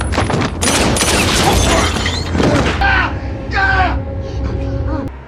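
Gunfire erupts in a gangster film scene as a loud, chaotic burst of shots with crashing impacts, followed by wailing, tonal cries as the barrage fades.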